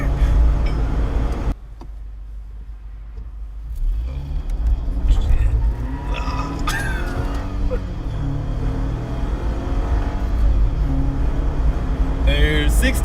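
A Jeep Wrangler JL with a 2.0L turbo engine rumbles while driving and making a U-turn, a low steady engine drone with a brief drop in level and faint rattles, and someone talks over it.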